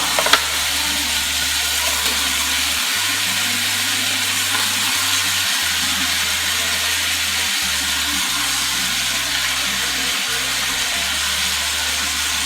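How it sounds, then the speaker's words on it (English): Carrots sizzle and fry in a pot for a slow-cooker French beef stew while they are stirred, a loud, steady hiss that carries on without a break and has no voices over it. "Again, give that a little stir. Pop the carrots in just for a few minutes, just to start them off."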